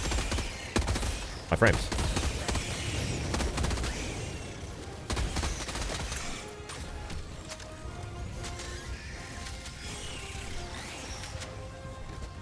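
Dense bursts of gunfire and explosions from a video game shooter with a mech suit, rattling in rapid volleys, while a player talks over the action.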